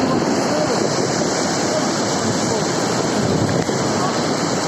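Floodwater of a mudflow rushes steadily in Tamdy district, Navoi region, Uzbekistan, a loud, continuous broadband roar with wind buffeting the microphone and no break across the stretch.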